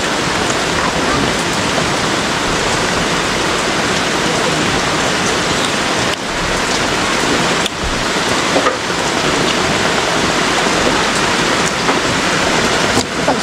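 A loud, steady downpour of heavy rain drums on surfaces around an outdoor meal, a continuous wash of noise with a few small dips in level.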